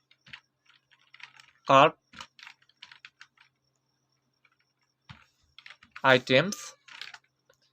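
Code is typed on a computer keyboard in scattered bursts of quick clicking keystrokes, close and crisp, with someone speaking at intervals between the typing.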